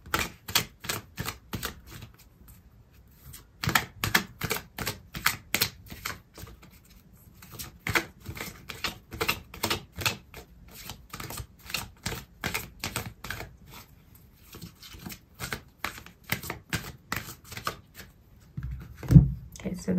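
Tarot cards are shuffled and drawn, producing a long run of soft, close, irregular slaps and taps in clustered bursts with short pauses between them.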